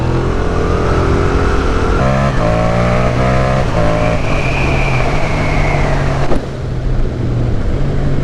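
A Yamaha MT-07 motorcycle with a new aftermarket exhaust is ridden, the engine droning steadily loud with rising and falling revs through gear changes, heard close from the rider's position amid wind noise.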